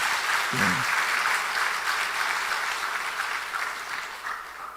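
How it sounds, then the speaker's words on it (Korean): A church congregation applauds during a Sunday evening service, a dense, steady wash of many hands clapping that carries on throughout and slowly tapers, with a brief low voice near the start. "우리 박수로 한번 격려하고 감사를 하십시다"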